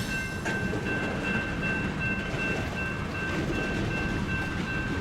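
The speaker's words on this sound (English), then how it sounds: "that mixed freight's starting to make a little bit of a move." A Union Pacific mixed freight train starts to move out of Beverly Yard, with a steady, loud mechanical rumble and rail noise that holds evenly throughout and no voices.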